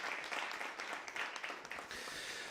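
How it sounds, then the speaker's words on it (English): Audience applause for performers at an Easter open mic night, a short burst of scattered clapping from a small crowd indoors, fairly near and steady. "Give yourself a round of applause."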